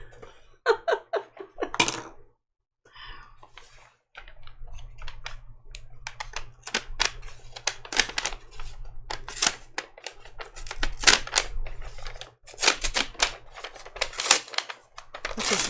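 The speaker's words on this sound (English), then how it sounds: "I'm going to make lots of paper ruffling sounds." Paper backing peeled off fabric pieces fused to Pellon for a quilt, giving a close run of crisp, irregular crinkling and tearing bursts with short pauses, fairly loud and without talk.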